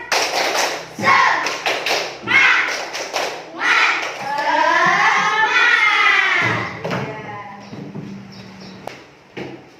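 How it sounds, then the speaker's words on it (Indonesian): Schoolchildren in a classroom perform a rhythmic spirit clap led by the teacher, patterned bursts of hand claps and taps in short groups, with chanting voices between and over the claps. "Coba ya tepuk semangat dulu."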